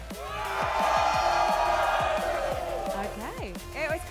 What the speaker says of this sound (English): In 3, 2, 1, make some noise!